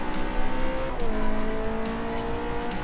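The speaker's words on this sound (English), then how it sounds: "me here racing inside the Ferrari" Ferrari race car in Forza Motorsport, its engine holding a steady loud high drone with a pitch shift midway as it changes gear, tires faintly squealing underneath throughout.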